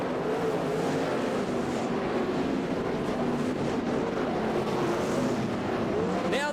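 Speedway race cars circling a dirt-track bowl at Arena Manawatu, a dense, continuous engine roar throughout with rising and falling whines as cars pass, under a race commentator's voice.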